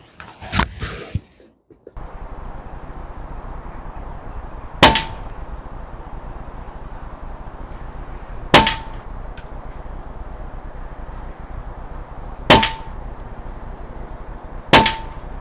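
A Daystate Air Wolf air rifle fires pellets in four sharp, isolated cracks spaced about four seconds apart. Each shot is crisp and close with a short metallic ring, separated by quiet hiss, and a few clattering handling noises come before the first shot.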